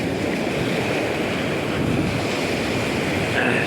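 Surf washes in a steady broadband rush, with wind buffeting the microphone throughout; no voices are heard.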